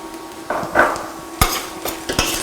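Onion and green chilies frying in a pan for tamarind chutney, with a steady close sizzle, a few sharp clinks of a spoon against the pan, and occasional stirring scrapes, no voices.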